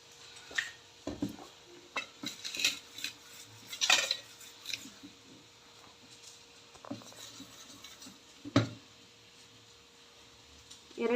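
A metal spoon clinks and scrapes against an oiled steel plate while idli batter is scooped on, in scattered light taps and a few sharper knocks, close and fairly quiet, with a low hum in the background.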